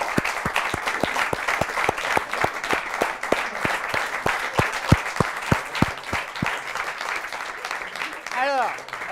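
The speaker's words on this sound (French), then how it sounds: "On va les applaudir bien fort." A studio audience at a televised contest show claps as four contestants walk in one by one: dense, close applause with sharp individual claps, steady and sustained, thinning slightly near the end where a brief voice or tone cuts in.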